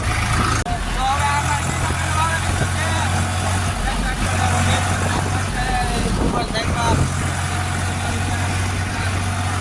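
A steady low engine rumble runs throughout, loud and close, like a tractor idling, with voices talking over it.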